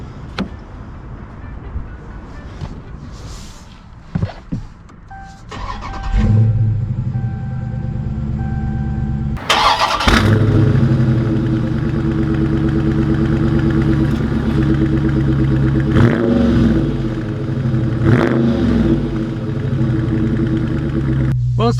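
A 2020 Dodge Charger Scat Pack Widebody pulls away and cruises, its engine rumble rising from about six seconds in and holding steady to the end, heard from inside the car while a person speaks over it.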